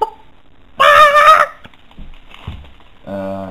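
Loud, close squawking calls from chickens: a long harsh cry, a few faint clucks and scratches, then another strained call at the end, with no talk.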